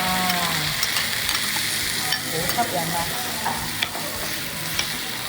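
Duck offal claypot rice being mixed at the table by a server in a restaurant, a close, steady crackling sizzle with scraping stirs, and a brief spoken exclamation over it.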